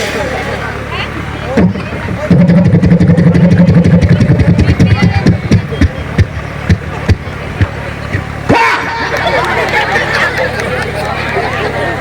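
A voice imitates a motorcycle engine starting, a buzzing throaty rumble followed by sputtering pops, with a crowd murmuring and people talking around it.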